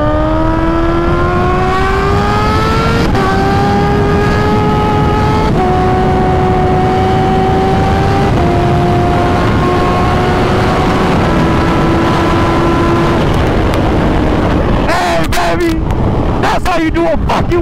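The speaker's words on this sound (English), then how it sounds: "it's the first time I really wheelied this thing for real this year" A Kawasaki Ninja H2 engine pulls hard during a wheelie, loud and close, climbing through several gears with a drop in pitch at each shift, under heavy wind roar, ending in gusty buffeting.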